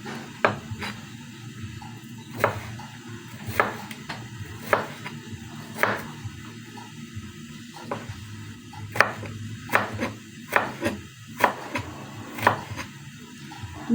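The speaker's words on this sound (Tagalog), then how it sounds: "Naririnig niyo ba yung ano ng aking carrots? Paghihiwa ko." Carrots being sliced with a knife on a board while cooking squash soup, giving a run of sharp, close chopping taps at an irregular pace over a low kitchen hum.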